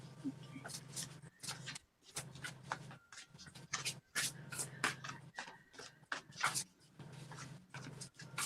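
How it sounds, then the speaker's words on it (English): Tarot cards are shuffled by hand, producing repeated crisp, slapping riffles in short bursts over a low, steady background hum. "Some of these cards are so loud to shuffle."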